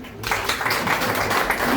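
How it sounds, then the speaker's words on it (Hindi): An audience applauds steadily at a ministerial inauguration of a Water Peace Institute centre, a dense wash of clapping sustained throughout at moderate loudness with faint voices mixed in. "महिलाओं के लिए ताली बजाओ"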